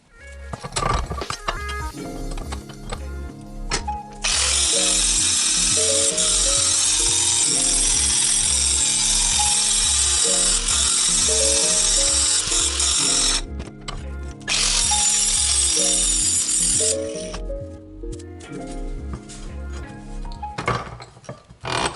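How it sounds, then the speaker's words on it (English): An angle grinder sharpens lawn mower blades in two long, loud, continuous grinding runs with a short pause between them. Quieter background music plays throughout. "I'll just match this angle with my grinder and then come on the back side, lay it flat, and just take the burr off of that edge."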